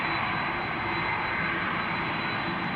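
Airbus A330-200 jet engines at Amsterdam Schiphol Airport make a steady, broad roar that holds at an even level throughout, with a faint hum beneath and no voices.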